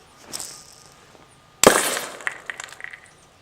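A Kimera Jr2 propane airsoft grenade loaded with BBs goes off outdoors in one sharp, loud bang, followed by a brief hiss and scattered rattling.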